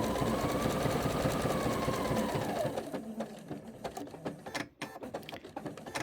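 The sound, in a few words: sewing machine sewing a tiny zigzag stitch on fabric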